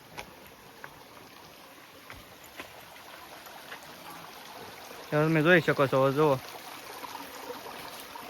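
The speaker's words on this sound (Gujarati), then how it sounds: "ભયજનક પાણીના ઝરણા વેતા છે" A forest stream at Hanuman Gala makes a steady rushing wash that runs through the whole stretch, and someone speaks briefly over it partway through.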